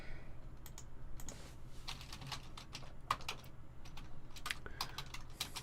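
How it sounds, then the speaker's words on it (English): Someone types on a computer keyboard in a quiet room, a faint, irregular patter of separate key clicks with a few louder taps, and no voices. "Brr, no typing, Chris, no typing."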